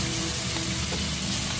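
Carp pieces hit rapeseed oil in a wok and sizzle in a brief, close, continuous crackling hiss at an even level, with no speech.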